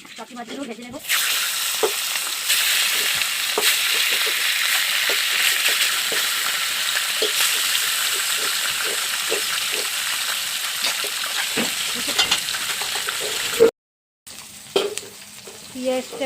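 The remaining pieces of salted, turmeric-coated fish fry in hot oil with a close, continuous crackling sizzle and scattered stirring taps, then the sizzle cuts off near the end before a few quieter clinks.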